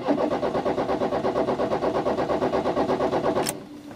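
A VW Rabbit diesel engine cranks over with a steady, rapid rhythmic churning from the starter but fails to catch, then the cranking cuts off abruptly near the end.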